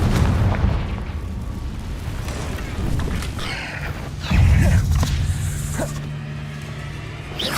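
Confringo blast spells exploding in the Hogwarts Legacy video game, heard as heavy booming bursts within a rumbling, noisy battle din, loud and repeated.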